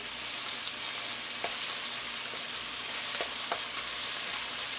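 Red chili paste frying in a pan for a chicken mince lasagne: a dense, even sizzle with a few faint scrapes of a spatula, close and steady throughout, no speech.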